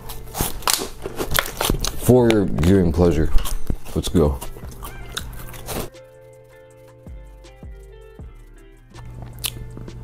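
A person talks briefly at first, then crunches and chews cheese balls up close, with moist biting and squishing and a few sharp clicks through a quieter stretch.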